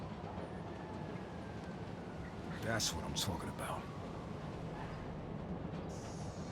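A train rumbles steadily in the video game Marvel's Spider-Man Remastered, with a brief metallic squeal partway through, while someone speaks over it.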